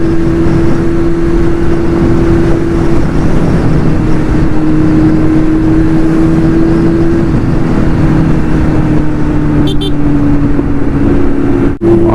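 A Kawasaki Z900 motorcycle fitted with a new aftermarket exhaust hums along on a road ride. A steady, loud engine tone drones under wind noise, with a sharp click near the end.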